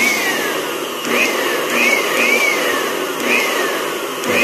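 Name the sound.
electric blower running during AVR repair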